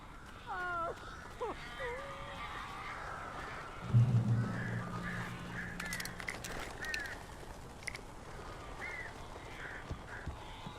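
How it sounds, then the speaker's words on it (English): Crows cawing in the Alan Wake video game, scattered harsh calls at a distance, with a low rumbling thud and other eerie ambient sounds mixed in. "These birds are weird."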